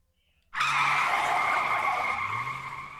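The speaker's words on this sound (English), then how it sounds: "The taxi's tires squealed as the cab rounded." Taxi tires squealing hard as the cab rounds a corner in the video game 428 Shibuya Scramble: a loud, close screech that bursts in suddenly after a quiet moment and holds steady for about two and a half seconds.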